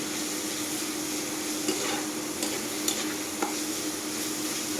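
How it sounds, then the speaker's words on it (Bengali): Crushed garlic fries in oil for a mashed bhorta, producing a steady, even hiss with a few faint clicks from stirring and no talking. "রসুনটা একটু তেলে ভেজে নিচ্ছে"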